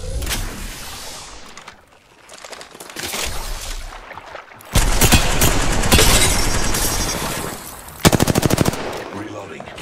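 Automatic gunfire in a video game rattles out in long, rapid bursts, loud and close, mixed with game effects and brief in-game voice lines, ending in a sharp final burst.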